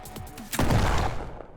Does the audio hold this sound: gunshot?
yes